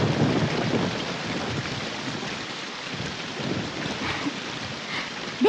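Steady rain pours outdoors in a Malayalam film scene: a continuous, fairly loud hiss with low rumbling underneath, ending with a brief sharper sound at the very end.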